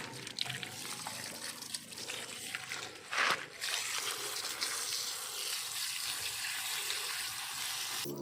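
Running tap water washes an adenium plant after it is pulled from its growing medium, a steady splashing trickle with a brief louder burst partway through.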